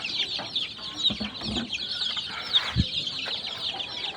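Young chickens on a poultry farm cluck and chirp steadily in a close chorus during hot weather, with a few louder individual clucks rising above the flock.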